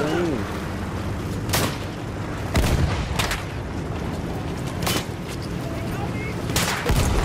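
Booming artillery fire in the Battlefield 1 video game, with several heavy blasts spaced a second or two apart over a constant rumbling battlefield din, some hits loud and close.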